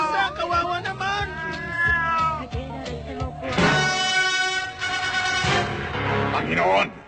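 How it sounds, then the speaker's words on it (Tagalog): A cat meows amid a busy soundtrack in a Filipino tokusatsu TV episode, with strong tonal music and voices overlapping the animal cries. "Pusa, kawawa naman!"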